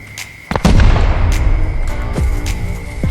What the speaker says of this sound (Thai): มันระเบิดเร็วบ้างช้าบ้างนะ